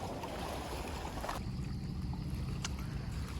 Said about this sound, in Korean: 바람이 엄청 많이 불어요